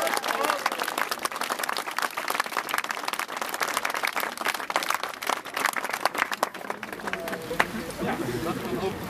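Outdoor audience applause at a boat naming ceremony for a coxless rowing pair, brisk clapping from a modest crowd with voices and chatter mixed in, fairly close and continuous.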